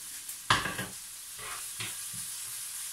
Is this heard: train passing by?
no